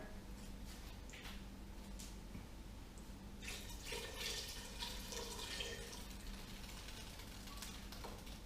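Running water pours steadily into a cooking pot, a soft continuous splash with a few faint clinks, close but quiet.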